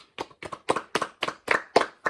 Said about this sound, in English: I'd like to give a round of applause to all the guests that have come on and all the fans.